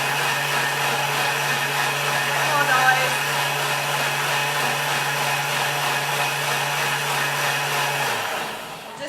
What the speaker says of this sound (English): I'm going to pop it on the machine, and then I'm just going to whiz it up